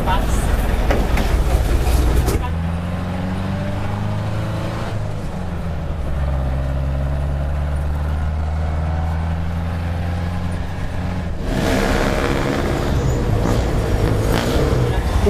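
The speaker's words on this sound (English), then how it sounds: "We are going via the local transport jeepney." A jeepney, the local transport of the Philippines, rumbles steadily from inside with a loud droning engine that shifts gear and surges again near the end, while a voice talks over it at times.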